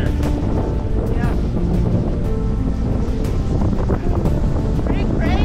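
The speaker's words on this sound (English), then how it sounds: "we turned directly into the wind" Strong wind buffets a sailboat heading straight into it, a loud, constant roaring rush with heavy microphone buffeting and the wash of waves against the hull, unbroken for the whole stretch.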